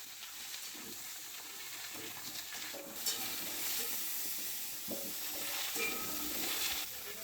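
Vegetables with turmeric and salt are sautéed in a pan, giving a steady, moderate sizzle with stirring scrapes and small bumps throughout, with no one talking.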